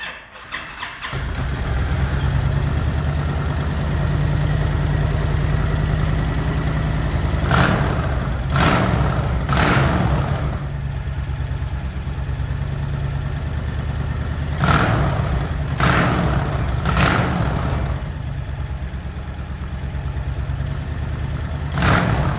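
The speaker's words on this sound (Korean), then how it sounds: "엔진 사운드도 들어보겠습니다." A Honda VT1300CR motorcycle engine runs steadily at idle close to the mic, with several sharp revs rising and falling in two bursts of three.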